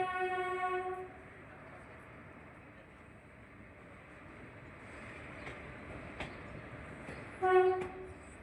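A Gandhidham–Palanpur passenger train with ICF coaches sounds its horn in two loud, steady blasts, one at the start and one near the end, with a low rumble of rail noise in between.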